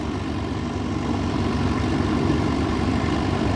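A Lancaster bomber runs on its single remaining engine after three others are switched off, a steady, loud low drone with a rough propeller throb, heard close and alone.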